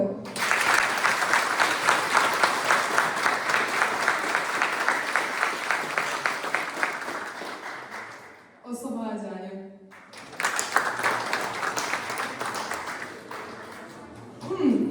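An audience applauds loudly to vote for a title, sustained dense clapping that breaks off briefly while a voice speaks, then swells again with cheering.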